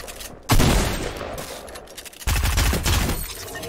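Gunfire in Fortnite: two loud bursts of rapid shots at close range, each a dense crackling volley lasting over a second, separated by a short lull.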